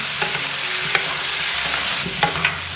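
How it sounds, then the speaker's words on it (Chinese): Garlic and pork belly stir-fried in a wok with soy sauce, oyster sauce, rock sugar, salt and pepper: a constant close sizzle broken by a few sharp spatula scrapes and clanks. "加入生抽、蚝油、少许冰糖、一点点盐、少许胡椒粉，翻炒香"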